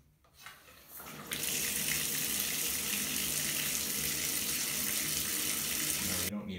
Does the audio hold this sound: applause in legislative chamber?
no